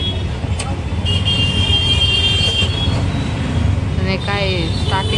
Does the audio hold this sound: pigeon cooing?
no